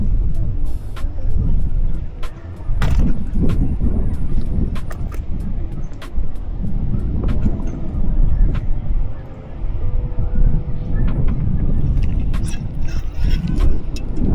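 Strong headwind during fishing buffets the microphone in a heavy, continuous low rumble, with brief lulls and scattered clicks throughout.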